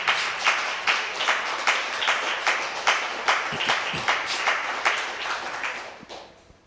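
Church congregation applauding during a sermon, a steady, moderately loud rhythmic clapping with regular beats that fades out at the end.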